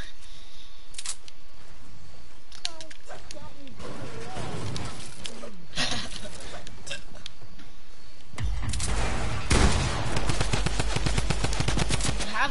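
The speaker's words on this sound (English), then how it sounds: "Tommy, you have a drum gun, so stop." Bursts of rapid drum gun fire ring out in a video game, with a heavier sustained volley near the end. Players talk over the shooting.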